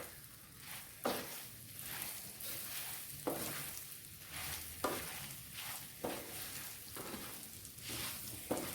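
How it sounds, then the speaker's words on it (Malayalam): Mango pickle mixture stirred in a pan for a traditional Kerala mango pickle, with softened mango pieces and Kashmiri chilli powder; a spoon scrapes in repeated strokes roughly every second over a steady close sizzle, no talk. "ഇതിലേക്ക് നമ്മൾ വാട്ടിയെടുത്ത മാങ്ങയും കൂടി ഇട്ട് കൊടുക്കാം. നന്നായിട്ടൊന്ന് ഇളക്കാം."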